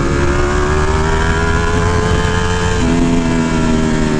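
A 2018 Ducati Panigale V4 S with a full Akrapovic exhaust, in race mode, holds a loud, steady engine drone close by with a sustained rev, and its pitch steps up slightly near the end.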